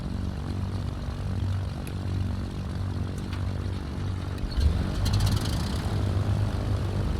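A Cessna 310R's engines idle at 1000 RPM in a flight simulator, giving a steady, droning propeller hum that holds throughout and swells slightly louder partway through.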